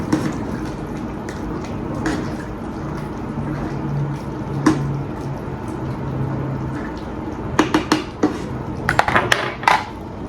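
Water with pasta bubbles and gurgles steadily in a pot, with a few sharp clinks of a utensil against metal near the end.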